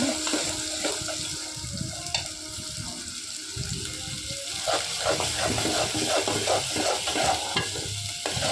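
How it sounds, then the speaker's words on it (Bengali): Onions and spices frying with Chinese duck meat for a curry, a loud continuous sizzle with busy stirring and scraping in the pan, some voices faintly underneath. "তাতে মশলাটা একটু ভাজা ভাজা করে নেব"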